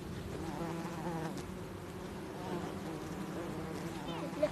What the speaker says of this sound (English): Is that a bumblebee or a honeybee, do you think? It's a bumblebee, isn't it?